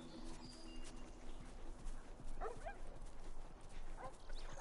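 A few short barks and yips from a pack of wild dogs in a video game, heard at a middling distance against a steady ambient game backdrop.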